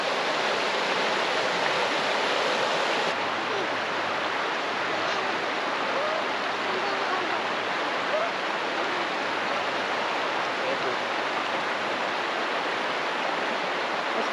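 A river running past a bush picnic spot along a 4x4 track, heard as a steady, full rushing of water that holds even and unbroken throughout, with no voices over it.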